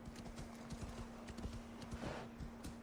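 Horse hooves clip-clop steadily at a brisk trot in Assassin's Creed Valhalla, crisp rhythmic hoofbeats close up over a faint hum.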